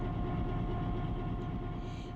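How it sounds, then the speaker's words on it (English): A freight train rolls by at speed past Red Mountain Junction, a loud, steady rail rumble with a dense low roar that holds for the whole stretch without any voices. "there's a train that's going to go barreling down the line all the way to Greenfield"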